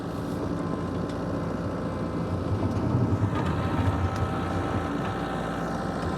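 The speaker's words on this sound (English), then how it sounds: "The engine on this tractor runs smooth as silk." The four-cylinder engine of a Kubota LX3310 compact tractor idles smoothly and steadily, a continuous close rumble with no breaks or other sounds.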